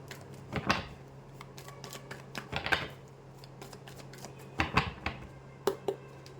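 Tarot cards handled at a table, being shuffled and drawn in a few quick crisp bursts of flicking and slapping, close and fairly quiet, with pauses between them and no talk.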